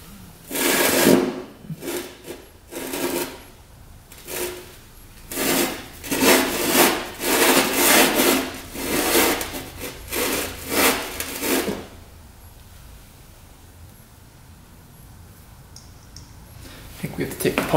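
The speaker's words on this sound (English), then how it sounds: "we'll take our cylinder and start sanding away" Rhythmic abrasive rasping of a two-stroke dirt bike cylinder being sanded flat, a series of regular strokes close up for about twelve seconds, then a quiet pause before another scrape.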